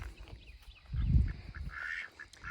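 Ducks quacking in a backyard garden duck pen, a few low throaty calls bunched near the middle with fainter bird chatter around them, moderately close and no talking.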